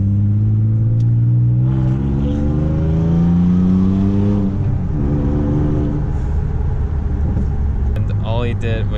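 A straight-piped Toyota Tacoma exhaust revs up loud and close, the engine tone climbing and then settling into a rough, throaty idle, with voices talking over it near the end.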